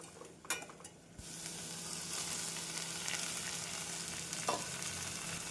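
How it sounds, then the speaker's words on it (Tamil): A few utensil clinks and scrapes, then a steady, hissing sizzle rises as tomatoes and onions sauté in a pan over medium flame. It continues quietly with a light stirring scrape. "தக்காளி சேர்த்து மீடியம் ஃப்ளேமில் நன்றாக வதக்க வேண்டும்"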